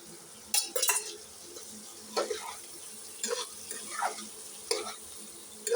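Spiced egg masala being stir-fried in a pan, with a low steady sizzle broken by repeated scraping and clinking strokes of a spatula against metal at an uneven pace.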